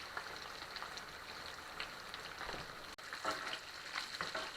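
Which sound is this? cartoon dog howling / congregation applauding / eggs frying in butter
eggs frying in butter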